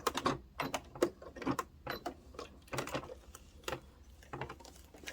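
A sewing machine stitches a zipper on a military uniform in short mechanical bursts with small pauses between runs, close by and fairly quiet.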